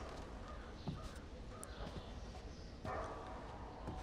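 Crows caw faintly in the stealth game Thief (2014), scattered calls half-buried in a dense, noisy ambient bed with occasional soft thumps.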